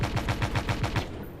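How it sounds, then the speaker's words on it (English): A pair of side-mounted autocannons on a fast Batmobile-like vehicle in a video game fire a rapid, even burst of about eight sharp shots, loud and close. "Couple auto cannons on the side."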